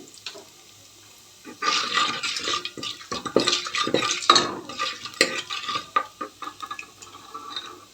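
Mustard seeds and cumin frying in a pan for a dal, sounding as a brief quiet start followed by a busy burst of crackling, popping and sputtering that stays lively for several seconds before easing off.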